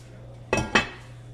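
Two quick metallic clanks as a lid is set onto a pot of fish simmering in water on the stove, close and clear over a low steady hum.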